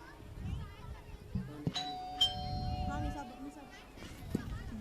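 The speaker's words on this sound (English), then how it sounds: "Doorbell rang." Two clear chimes of a doorbell ring out over a quiet voice and background movement, the tones lingering briefly before fading.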